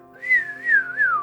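A person whistles a rising and falling, wavering tone to imitate a frequency-modulated dolphin whistle, with three swoops in one short, clear phrase, close and alone.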